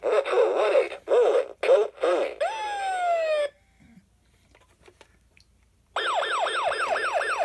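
A 1992 Funrise toy fire truck's electronic warble siren rising and falling in quick repeated cycles, loud and close, starting after a short silence and following earlier horn-like blasts.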